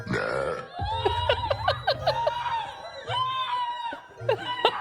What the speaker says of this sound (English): the women are terrified when they hear the strange and horrifying sound of a loud burp